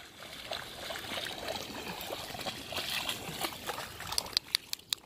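An animal wades through shallow lagoon water, giving soft continuous sloshing and trickling with a few sharper splashes near the end, faint and close with no talk.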